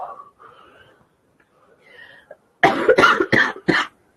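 After a few quiet murmurs, a person coughs four times in a quick burst, loud and close to the microphone.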